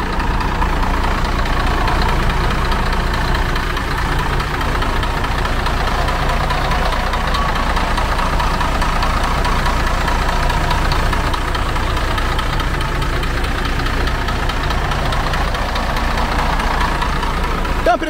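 A Scania bus engine rated at 420 horsepower, in a Busscar-bodied Gontijo coach, idles with a steady, dense mechanical rumble and knocking texture, loud and continuous throughout with no pauses.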